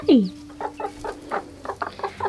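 Frizzle bantam Cochin hens cluck close by inside their coop on a hot day, opening with a rising squawk and then a run of short, evenly spaced clucks.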